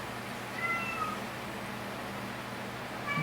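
A cat meows in a farm workshop, giving a couple of short, clear tonal calls near the start and another at the end, close by over a steady low background hum.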